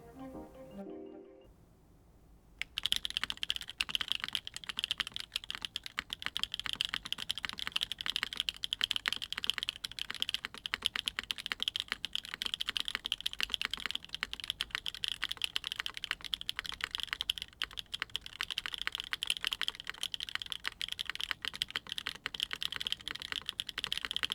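Fast, continuous typing on a Neo80 TKL keyboard fitted with Shoko Frankenswitches, a palm plate and a 1.6mm non-flex cut PCB, giving a close, dense stream of crisp key clacks after a short quiet start.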